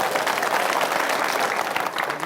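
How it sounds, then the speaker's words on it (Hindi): Loud, dense applause from a crowd at an outdoor live political news debate in Sardhana, Meerut, clapping continuously and close throughout, with faint voices under it. "तालियां बजाए जो मानते हैं।"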